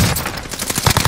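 Rapid bursts of video game gunfire, dense automatic fire with sharp repeated cracks that stay loud throughout the short stretch, with no talk over it.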